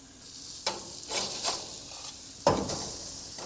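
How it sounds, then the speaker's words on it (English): Tri tip steak searing on a hot grill, a steady close sizzle with a few louder pops and crackles where the meat shifts or fat spits, nobody talking. "Getting a good sear"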